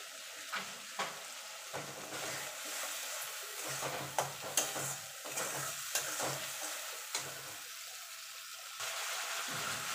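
Fish and eggplant curry, made with tilapia in mustard oil, stirred in a pan with a steady low sizzle and scattered scraping clicks of the spoon, close and moderately loud, with no talking.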